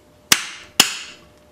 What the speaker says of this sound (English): Get a hammer,